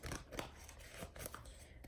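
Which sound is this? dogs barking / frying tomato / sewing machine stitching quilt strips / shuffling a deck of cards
shuffling a deck of cards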